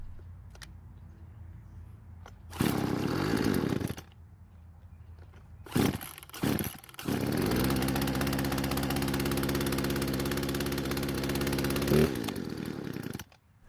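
A Poulan Pro chainsaw that leaks starts up and runs at a rough idle, loud and close. It bursts to life, stutters and cuts out briefly, then settles into a steady, buzzing idle before dying away at the end.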